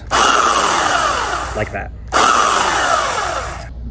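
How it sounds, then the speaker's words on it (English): A belt sander set upside down on the ground whirs loudly and steadily, a broadband grinding roar with a short drop in the middle before it picks up again, while someone speaks briefly. "I set the belt sander on the ground upside down like this, and then you can turn it on"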